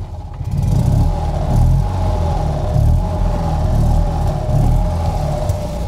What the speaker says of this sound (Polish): To odpalanie jest zawsze fajne, bo to jest właśnie chyba ten dźwięk takiego kaszlu,